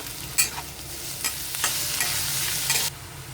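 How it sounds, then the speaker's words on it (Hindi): Chopped onion, garlic and ginger sizzle steadily in a pan for a few seconds, with several clacks of a spoon stirring them through the hot oil; close and fairly loud, with no talking. "अब मैं इसमें ये कटे हुए प्याज लहसुन अदरक डाल के 1 मिनट तक फ्राई कर लूंगी।"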